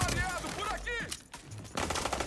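Gunfire in the video game The Division 2: rapid shots cracking in short bursts alongside synthetic game effects, with a brief lull before firing resumes.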